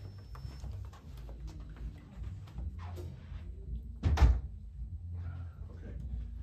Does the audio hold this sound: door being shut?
yes